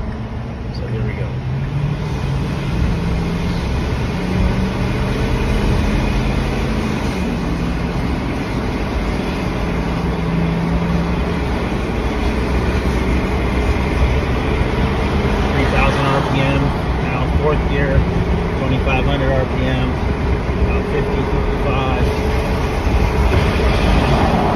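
A diesel truck engine pulls a 40 ft fifth-wheel trailer up onto a freeway, a steady heavy drone with road noise and shifting engine tones throughout, with someone talking at times over it.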